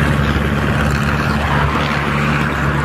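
An Arjun 605 tractor hauling a loaded trolley uphill in first gear, its engine a loud, steady, low droning rumble close by, with no voices heard.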